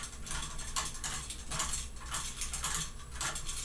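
Wire nut being twisted by hand onto electrical wires while an outlet is installed, a quiet run of ratcheting clicks and plastic creaks coming in short repeated bursts, close up and faint.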